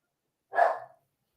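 A single short dog bark, close and clear, one burst lasting under half a second in an otherwise quiet room.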